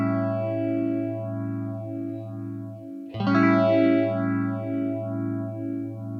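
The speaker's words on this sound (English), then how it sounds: "It's a slow sweep across your distortion sound if you have one going," A phaser effect slowly sweeps across a sustained distorted guitar tone, with notches rising and falling through the sound, a short gap, then a new chord continuing the sweep.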